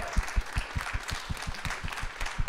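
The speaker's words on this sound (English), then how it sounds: "Give me a big cheer!" Audience at a live comedy show applauds with a steady, rhythmic clap of about five beats per second, evenly spaced thumps over faint crowd noise, fairly close.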